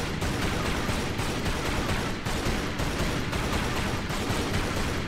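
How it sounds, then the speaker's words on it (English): Steady rapid gunfire from pistols in the action-adventure game Tomb Raider: Legend, loud, dense repeated reports running through the whole stretch over constant game noise. "Use the pistols."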